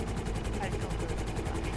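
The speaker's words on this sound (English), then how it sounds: "If anyone cheats, I'm going to shoot with my machine guns." Dense, continuous rapid gunfire from a video game, loud and steady throughout, with a low rumbling engine-like drone beneath it.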